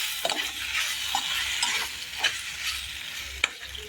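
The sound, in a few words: stirring macaroni pasta with cheese spread and chilli flakes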